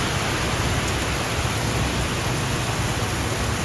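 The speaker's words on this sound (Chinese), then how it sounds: "下午一场大雷雨来得又急又猛，不仅基隆市中心下起了大雨" Heavy thunderstorm rain pouring down over downtown Keelung, a steady, dense hiss of rainfall that stays loud and even throughout, with no voices.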